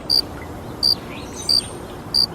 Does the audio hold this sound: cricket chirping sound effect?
yes